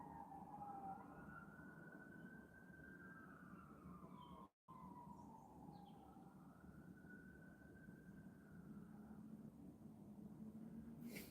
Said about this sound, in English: can hear the sirens out there.